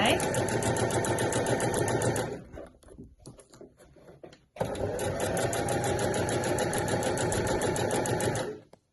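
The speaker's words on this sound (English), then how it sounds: "I'm just going to sew this strap folded in half all the way down" A sewing machine stitches a folded bag strap for a weekender bag in two long, steady runs of rapid rhythmic clatter, close and loud, separated by a short pause with small handling sounds.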